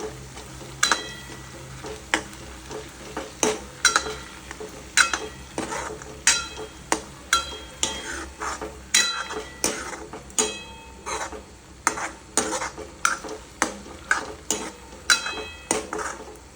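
Onions frying in oil in a pan, stirred with a utensil that scrapes and clinks against the metal in a steady repeated rhythm over a continuous close sizzle, with no talking.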